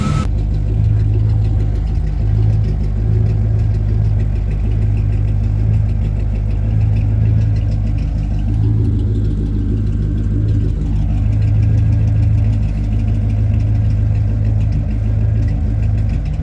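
An 1987-1995 Chevy OBS pickup engine idles steadily and loudly, with a continuous mechanical whir and faint squealing from the serpentine belt drive running throughout.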